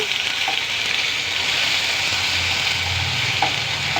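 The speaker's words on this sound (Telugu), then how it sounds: "ఈ మసాలా పేస్ట్ కొద్దిగా వేసుకుందాం మసాలా పేస్ట్ బాయిల్ అవుతుంది కదా" Masala paste for a brinjal and tomato curry bubbling and sizzling in a pan, a constant close frying hiss with a few faint clinks, without speech.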